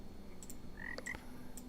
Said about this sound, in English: Oh, there's a frog there too.